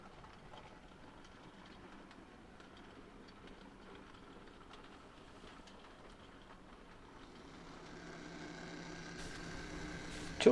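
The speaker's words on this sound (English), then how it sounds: "A 2MT tank hurries through Lissis Moor with a downed van train." A 00 gauge model 2MT steam tank locomotive hauling a van train rumbles steadily along the track, quiet at first and gradually growing louder as it draws nearer, with faint rhythmic clatter.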